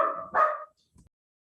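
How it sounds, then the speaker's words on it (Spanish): Small dogs bark in a quick close burst of two or three sharp yaps, then stop, followed by a faint low thump in otherwise silent surroundings. "son bien ruidosos estos perritos ingratos"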